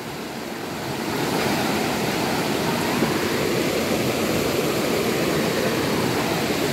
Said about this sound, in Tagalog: Pero ngayon ang lakas oh.